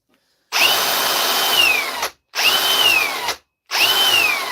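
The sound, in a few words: noisy angle grinder running during repair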